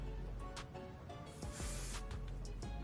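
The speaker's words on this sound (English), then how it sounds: "So I'm going in with my Ebin. This is my favorite spray." Short hissing bursts of Ebin hair spray misted onto a lace wig, a few brief quiet sprays close by.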